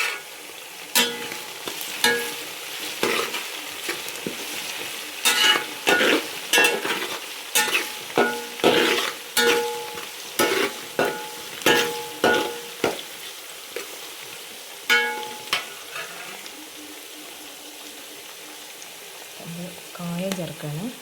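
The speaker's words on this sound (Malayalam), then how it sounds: "നമുക്കതിലേക്ക് നല്ല കറിവേപ്പില ചേർക്കാം" Curry leaves hit a pan of frying garlic, ginger and chillies for a goosebery pickle, setting off loud bursts of crackling sizzle and repeated stirring scrapes at close range that gradually settle, with a voice briefly heard near the end.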